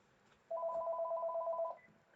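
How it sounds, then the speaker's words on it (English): A telephone rings once in a sewing room, a single steady electronic trill lasting a little over a second, moderately clear above a quiet background. "We are ignoring this phone, I think."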